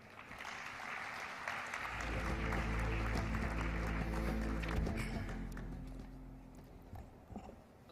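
Audience applause for the Secretary General at a Girls in ICT Day event at the Transform Africa Summit in Victoria Falls, Zimbabwe, starting moderate and swelling into a dense, sustained ovation before tapering off, with low rumbling underneath.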